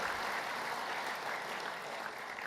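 Audience applause after a football club president's speech at a memorial trophy event, a steady wash of clapping that holds for the whole clip with no talk over it.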